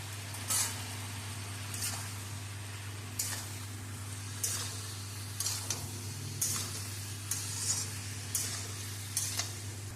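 Turmeric, red chilli powder and cumin-coriander paste fry in a pan with a soft sizzle, stirred in a steady rhythm of regular scraping strokes over a constant low hum.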